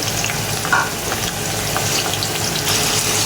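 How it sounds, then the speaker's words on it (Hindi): Chopped tomatoes and green chilies fry in a pot with a steady, close sizzling hiss, with a few small pops along the way. "और इसको अच्छी तरीके से भून लेंगे"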